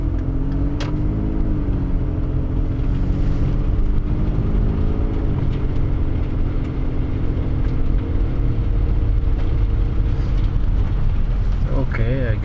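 A car accelerating and turning at an intersection on winter roads, a steady loud engine rumble heard from inside the cabin with rising engine tones, while a person talks over it.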